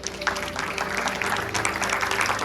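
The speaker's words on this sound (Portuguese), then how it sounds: "Você pode aplaudir o Senhor?" Congregation applauding during a Sunday faith service at a church, a steady wash of many hands clapping with a faint sustained tone beneath, moderately loud and continuous throughout.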